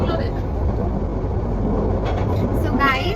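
Steady low rumble of a passenger train interior while riding toward Feni station, continuous and loud, with faint voices mixed in.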